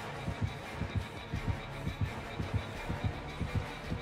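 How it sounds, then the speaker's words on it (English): In the video game Dead by Daylight, a heartbeat thumps in a steady, quickening double-pulse rhythm, low and muffled, under a faint background hum with no talking. "I could hear your heartbeat"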